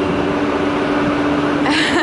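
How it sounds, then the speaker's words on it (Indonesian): A noisy generator runs in Orlando, giving off a loud, steady, droning hum with no pauses and no talking. "ribut sekali itu ternyata generator atau apa ya"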